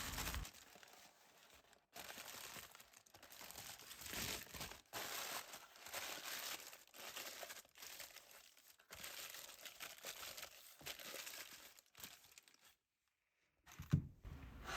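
Baking paper being crumpled by hand to line a 14 cm cake mould, a long dense crinkling and crackling close up, steady with brief pauses, no voices.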